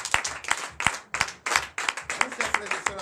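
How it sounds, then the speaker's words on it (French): A congregation at a Sunday church service bursts into applause, uneven close handclaps in quick bursts, with some voices mixed in. "Donnez l'acclamation"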